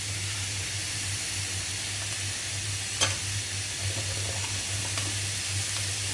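Onions sautéing in oil in a pan give off a steady, close sizzle and hiss, with a low hum beneath and one sharp scrape of stirring near the middle.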